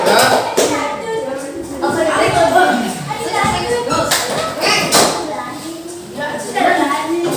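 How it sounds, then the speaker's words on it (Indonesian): A classroom of students claps for a student group, uneven hand claps and taps mixed with voices talking over them throughout. "tepuk tangan untuk kelompok 3"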